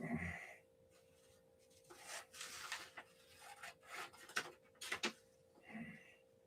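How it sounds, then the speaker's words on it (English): Scissors snip through printed paper sheets for a model build, giving a few short, crisp cutting strokes at close range with quiet pauses in between. "I don't happen to have one, so we'll just use scissors."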